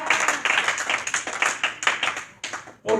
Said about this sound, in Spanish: Oh, aplauda más fuerte a Dios.